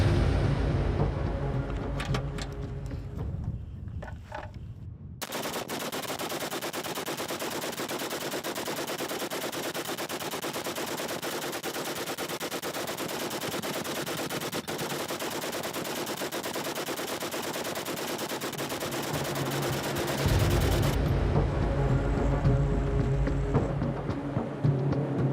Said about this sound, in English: Karin wants to put the machine gun to the test, using a historical example from 1908